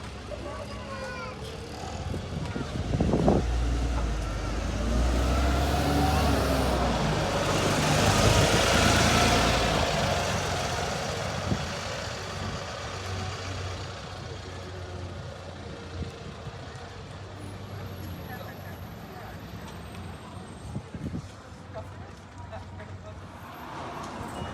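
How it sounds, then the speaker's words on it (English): An Optare Metro City bus from South West Coaches runs its engine in rural Somerset, a steady mid-pitched drone that swells and eases as it moves, heard from on board. "this was a Southwest Coaches Optare Metro City"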